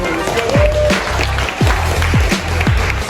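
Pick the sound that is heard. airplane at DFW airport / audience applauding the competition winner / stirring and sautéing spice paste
audience applauding the competition winner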